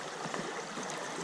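Water squeezed through a Sawyer Mini water filter, a steady close hiss and trickle of flowing liquid lasting throughout, without voices.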